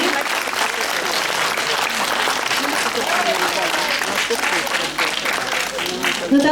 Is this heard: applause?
yes